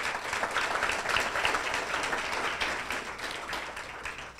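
A banquet crowd gives the student's parents a round of applause, with dense, steady clapping from many people that fills the room and fades slightly toward the end.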